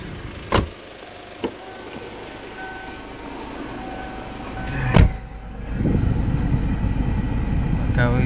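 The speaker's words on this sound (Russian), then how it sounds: "Зеркала складываются." Power side mirrors of a Kia Sportage folding in, a soft motorized whir with a couple of sharp clicks, over a steady low cabin hum that grows louder near the end.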